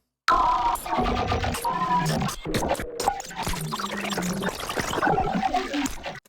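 A music sample repitched and stretched to twice its length, giving a slowed, lowered, smeary texture with drawn-out tones and scattered transients, played continuously and alone at moderate loudness after a brief silence.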